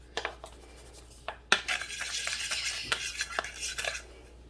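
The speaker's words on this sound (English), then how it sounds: "I'm going to just take a fork, kind of mix these all together" A fork stirs and mixes food for a frugal back-to-school meal prep, giving close scraping, rubbing and light clinks against a dish, with a few sharp taps followed by steady scratchy mixing.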